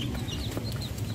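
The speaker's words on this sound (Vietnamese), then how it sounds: "Còn mấy con gà này nó còn nhỏ, được mấy ngày à." Young chicks only a few days old, kept indoors, cluck and peep steadily over a continuous low background hum, with no voices heard.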